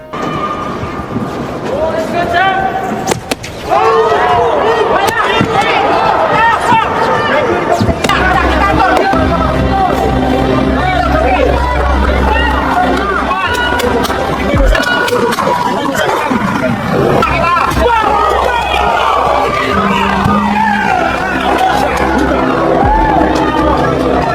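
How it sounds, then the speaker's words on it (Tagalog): A boxing crowd in the second round of Casimero versus Mizokoshi, a loud, continuous roar of shouting and babble that swells and stays dense throughout, with a commentator's voice over it. "Sa ikalawang round, lumakas ang sigawan ng crowd."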